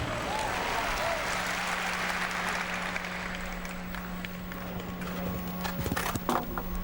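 Hooves of a chestnut show-jumping horse at an indoor World Cup final in Las Vegas, with soft thudding footfalls under continuous crowd noise and applause, a few sharper knocks near the end.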